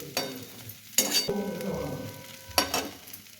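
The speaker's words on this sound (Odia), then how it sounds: "ଆପଣମାନେ ଏଇଭଳି ଥରେ ମେଥି ଶାଗକୁ ଭାଜନ୍ତୁ" Fenugreek greens being fried in a pan with onion, garlic and peanuts, with brief stirring scrapes around three bursts that stand out over a soft continuous sizzle.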